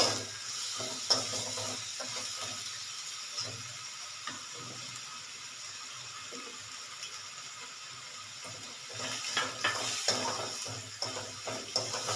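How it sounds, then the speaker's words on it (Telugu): Onion frying in a pan with salt and turmeric, a steady soft sizzle broken by occasional stirring scrapes, fairly quiet throughout; no talking. "ఉప్పు పసుపు కూడా వేసేస్తున్నానండి దానికి ఉల్లిపాయ బాగా ఫ్రై అయిపోతుంది"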